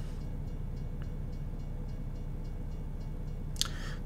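In American Truck Simulator, a train passes a road crossing in Kansas with a steady, low rolling rumble that holds throughout, topped by a faint high click near the end.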